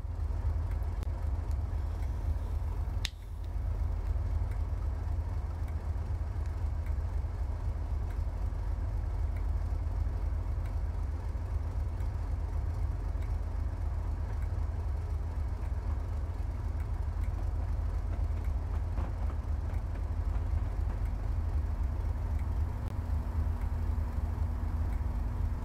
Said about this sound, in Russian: Дизель-поезд пассажирский.